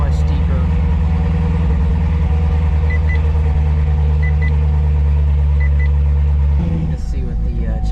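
A C7 Corvette Z06 fitted with an Attack Blue air filter runs with a loud, deep, steady engine rumble, holding a constant idle before a brief shift in tone near the end.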